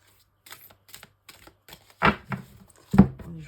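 Tarot cards being cut and shuffled by hand, a series of soft papery flicks and riffles that build into two louder slaps near the end, close and quiet with no talking.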